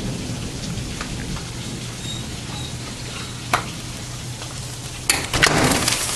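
Heavy rain pours outdoors in a steady loud hiss, with thunder rumbling and a sharp crack of nearby thunder near the end.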